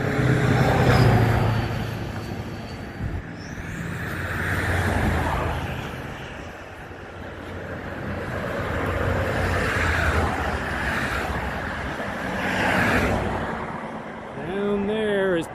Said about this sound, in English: Holy moly, this traffic's crazy.